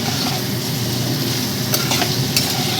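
Taro stolons fry with black cumin and garlic, a close, loud, steady sizzle and hiss with a couple of brief scraping stirs near the end, no speech.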